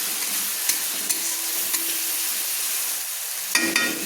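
Turmeric powder being stirred into food frying in a pan for chicken do pyaza, with a steady broadband sizzle and a few sharp spoon scrapes and taps against the pan, close and continuous with no talk.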